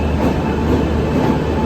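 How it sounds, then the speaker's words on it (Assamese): An arriving train rumbles steadily at close range, a loud, even roar of rail cars with a faint high whine above it, without pauses or voices. "আৰু ফাইনেলি আমাৰ ট্ৰেইনখনো আহি পালে"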